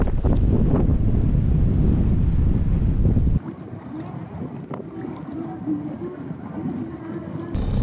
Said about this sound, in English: Yeah, it's super windy, so we're going to go below and get out of it.